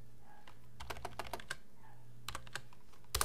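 Quick bursts of typing on a computer keyboard as a web address is entered into a browser's address bar, with irregular clusters of key clicks separated by short pauses, close and fairly quiet with no talking.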